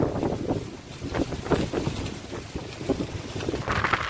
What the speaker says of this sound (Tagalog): Yan yung payong ko. Binabayo ng hangin. Ang lakas.